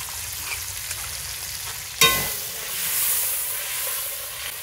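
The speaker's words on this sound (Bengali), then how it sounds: "হালকা একটু জল দিয়ে এটাকে কষিয়ে নেব।" Egg curry masala sautés in a pan as a little water is added, opening with a low frying sizzle, then a sharp loud hiss at the splash that settles into steady bubbling sizzle.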